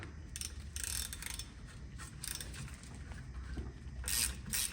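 A hand ratchet works a T30 Torx rotor screw loose on the rear brakes of a 2010-2014 Mercedes-Benz E350 (W212), giving several short bursts of rapid clicking close up in a quiet garage.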